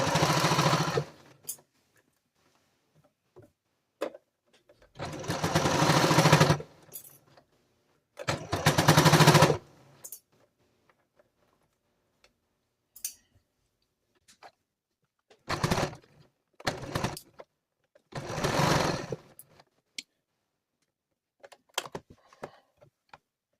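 A sewing machine stitches a sweatshirt neckband in several separate loud bursts of rapid whirring, with a backstitch pass among them and quiet pauses in between.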